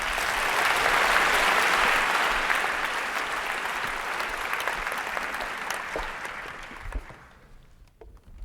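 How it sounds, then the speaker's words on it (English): A school-conference audience applauds, loud and dense at first, then the clapping thins and fades out over several seconds. "So big round of applause."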